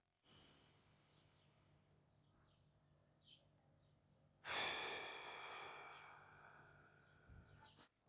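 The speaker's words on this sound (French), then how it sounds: "Des expirations longues, ça peut durer 8 secondes encore une fois." Slow, drawn-out exhalations during a guided breathing exercise, soft and close, one brief breath early on, then a longer, louder outward breath lasting several seconds and fading away, with no talking.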